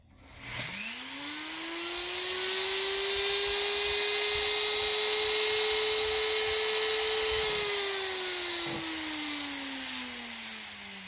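An electric die grinder, used while prepping Sportster rocker boxes for paint, spins up to full speed of about 20,000 RPM: a steady, fairly quiet high whine that rises at the start, holds, then winds down.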